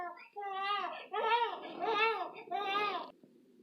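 An infant wails in four drawn-out, rising and falling cries, close and loud, with short gasping breaks between them and a quiet pause at the end.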